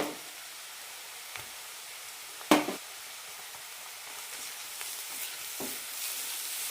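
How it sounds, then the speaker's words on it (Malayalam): Onions sautéing with ginger-garlic paste in a pan for a Bengal gram masala, a steady soft sizzle and hiss with a few louder clinks of a spoon stirring against the pan. "ഒരു മിനിറ്റ് നന്നായി വഴറ്റി കൊടുക്കാം"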